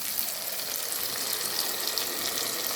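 Tomato poured into a hot pan sizzles steadily and loudly, a dense, even hiss close by with no pauses and no voices.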